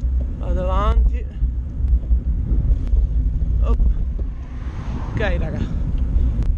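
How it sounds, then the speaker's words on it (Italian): Strong wind buffets the microphone during an outdoor bike ride, producing a constant low rumbling roar that runs under someone talking in short bursts. "Il vostro vento è micidiale, raga."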